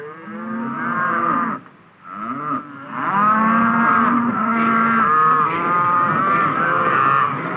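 A herd of beef cattle on a 1950s American cattle ranch, being gathered for shipping to the stockyards, moos in long, loud, overlapping calls that go on almost without a break.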